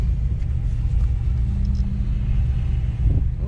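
A swapped-in Ford Coyote engine runs with a deep, steady, close idle rumble that holds evenly for a few seconds.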